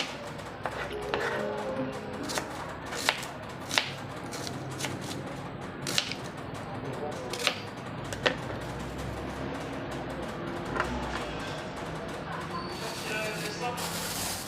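Small sharp knife chopping large tomatoes on a board for ginisang patola, a run of soft regular cuts with a few sharper knocks, close and moderate, over a steady room hiss with no talk.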